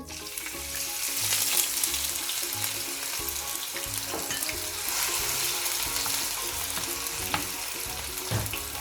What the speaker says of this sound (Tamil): பிறகு வெட்டி வச்ச வெங்காயத்தை போடுறேன்.